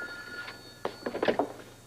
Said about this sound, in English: every time that phone rings, I jump 1 foot, Alan.